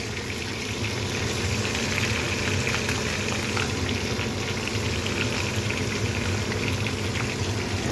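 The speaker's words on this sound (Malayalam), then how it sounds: "മിനിറ്റിന് ശേഷം നന്നായിട്ട് വഴറ്റണം" Ginger, garlic and shallots sautéing in a pan for a buttermilk curry, giving a steady, close sizzle and frying crackle that holds evenly throughout without talk.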